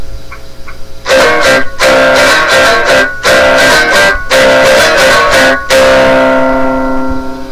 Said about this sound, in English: this is the sound of just the piezo pickup.